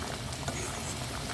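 Mung bean soup with fried fish bubbling in a pot, a soft continuous simmering patter and pop of boiling liquid, steady and close with no talk.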